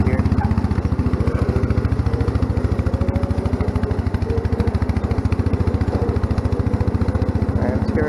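A vehicle engine chugs in a fast, even pulsing beat while running in fourth gear, loud and close throughout, with someone talking over it.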